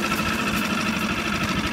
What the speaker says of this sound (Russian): Моторная лодка, точнее лодочный мотор